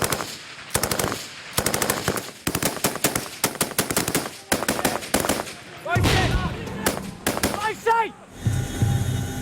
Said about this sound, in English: Two enemy on bun line! Rapid! Fire!